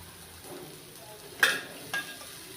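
Rava dosa fries in oil on a pan over a medium flame, a faint soft sizzle broken by two brief sharp scraping clinks of a utensil.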